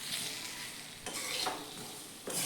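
Ridge gourd being stirred with spice masala in a frying pan over oil, a steady sizzle with scraping stir strokes throughout, fairly close and alone.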